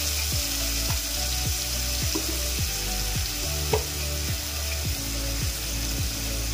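Spices sizzle in hot oil in a pan, a steady bright frying hiss with a regular scraping clack of a spatula stirring through it, close and alone.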